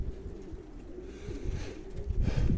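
German pigeons on a rooftop coo softly in low, murmuring calls, close by, over a steady background hum with no voices.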